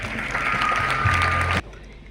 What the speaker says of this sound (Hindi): जोरदार तालियों से उनका स्वागत करिए।